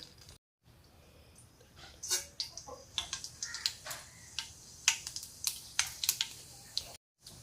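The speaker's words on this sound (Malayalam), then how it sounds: "കടുക് പൊട്ടി കഴിഞ്ഞിട്ടുണ്ട്" Mustard seeds popping in hot oil for a homemade garlic pickle, with scattered sharp crackles and pops that start sparse and grow more frequent, heard close up with no talk.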